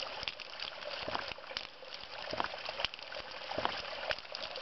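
Water surges through a long hose running to the Great Pyramid's subterranean chamber, a close, fluctuating rushing and gurgling with repeated knocks and pulses as the hose shakes.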